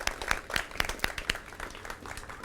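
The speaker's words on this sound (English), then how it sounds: "So just one more round of applause for all of our nominees and winners tonight." An awards-night audience gives a round of applause for nominees and winners. Some hands clap in distinct, fairly regular sharp strikes over a thinner wash of clapping, sounding moderately near.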